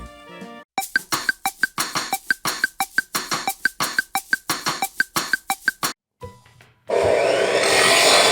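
Hand saw cutting through tree branch wood on a farm, a steady run of about twenty rhythmic back-and-forth strokes, close and loud, followed by a pause and a harsh broadband rustle or crackle at the end.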